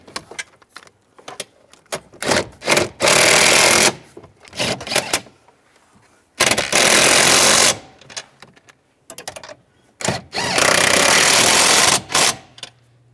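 A power tool snugs down the antenna base nuts on a Chevrolet Silverado, with repeated loud buzzing bursts close by, broken by shorter stuttering rattles and brief pauses.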